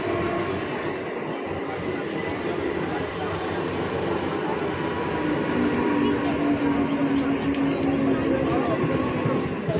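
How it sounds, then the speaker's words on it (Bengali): A train arriving at a station rumbles steadily close by for several seconds, its low roar building slightly toward the end, with people talking faintly underneath. "ট্রেন আসছে"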